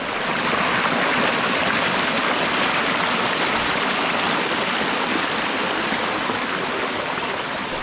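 Water pours over an algae-covered stream weir into a pond in a mill village, a loud, close, steady rushing wash with no pauses or voices.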